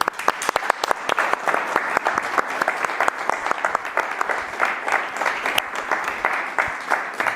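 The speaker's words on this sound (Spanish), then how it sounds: "Un aplauso, por favor, para él" An audience in León applauds speaker Óscar Fábrega before his talk on Edgar Allan Poe, with steady, crisp clapping from a sizeable indoor crowd, individual claps standing out sharply, no speech over it.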